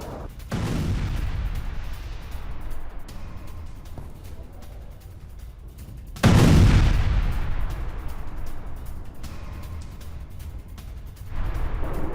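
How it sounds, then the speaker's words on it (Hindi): Bombing of Russian positions with GBU-62 bombs: heavy, deep explosions boom out one after another, with a loud blast near the middle and rumbling aftermath, mixed with broadcast-style background noise. "GBU-62 बमों से रूसी पोजीशंस पर बमबारी किए विजय"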